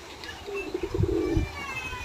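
Andhra and Madras breed pigeons coo in a pigeon house, a soft, low, rolling coo repeated in a short burst at middle distance, with faint background noise and a distant voice.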